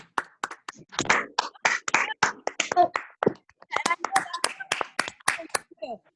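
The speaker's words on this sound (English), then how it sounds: "Everyone clap for Presley." A small group claps for a student named Presley at a leadership class preparing for a knife tournament, a steady run of close, uneven handclaps under some chatter.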